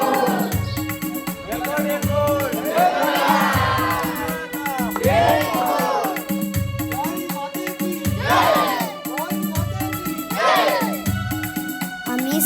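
A dense crowd of devotees fills the stone-built Jejuri temple with steady murmuring and calling voices, punctuated by louder bursts of shouting and chanting, alongside repeated low rhythmic thumps, all close and continuous throughout.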